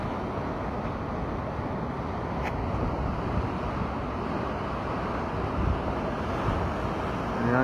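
Rough sea with waves and gusting wind as fishermen head out, a steady, dense roar of surf and wind buffeting the microphone throughout, with no voices.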